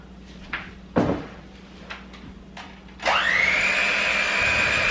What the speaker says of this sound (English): I'm gonna mix this a little with the mixer so it's a little better